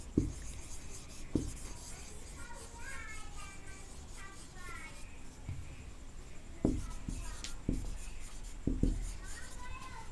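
Chalk or marker strokes scratch and tap against a classroom board while a sentence is written out, short squeaky scrapes and knocks in an irregular rhythm, close by, with a voice speaking softly at times.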